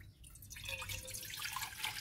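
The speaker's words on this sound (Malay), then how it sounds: "Mula-mula saya akan masukkan 2 liter air ke dalam kuali." Two liters of water poured into a wok for boiling spaghetti, a steady splashing stream that starts after a brief quiet moment and continues at moderate loudness.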